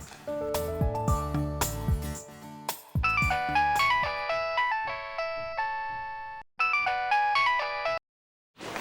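A bright electronic phone ringtone plays a repeating melodic chime pattern, loud and clear with short pauses between phrases, as an incoming call rings unanswered.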